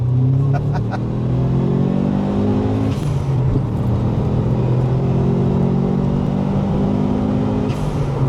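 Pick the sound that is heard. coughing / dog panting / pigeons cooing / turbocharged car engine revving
turbocharged car engine revving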